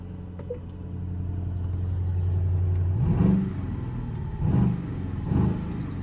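An Aston Martin DBX 707 idles with a low steady rumble, then in sport mode gives three sharp throttle blips, each swelling into a deep growling rev and falling back.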